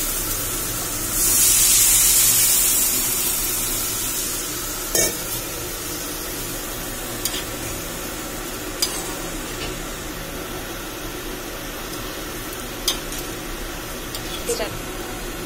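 A burst of loud hissing sizzle as tamarind water hits a hot pan of okra curry, then a quieter steady simmer with occasional clinks of a spoon stirring.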